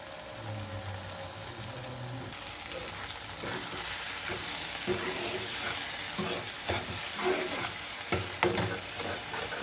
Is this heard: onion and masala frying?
yes